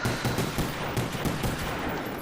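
Pistol fire in the Call of the Dead zombies map of a shooter video game: rapid, densely packed shots and noisy combat clatter that go on loud and steady for the whole short stretch.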